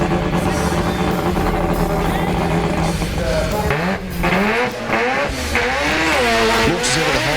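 A rotary-powered old Series 4 drag race car that runs 8.7-second passes launches hard. It gives a loud, continuous engine roar whose pitch sweeps and climbs as it accelerates, with a brief dip before surging again, heard close and alone.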